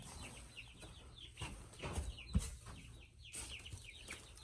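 Chickens in a coop cluck softly and intermittently at a moderate distance over a steady barnyard background, with a few scattered peeps and a brief bump of movement partway through.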